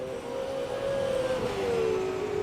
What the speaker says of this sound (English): Got a car around I can hear, I'm not sure exactly where.